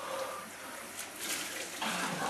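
Water runs and splashes steadily while someone rinses their face under a tap, close and fairly loud, with a few brief surges of splashing.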